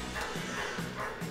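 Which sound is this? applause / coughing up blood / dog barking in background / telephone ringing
dog barking in background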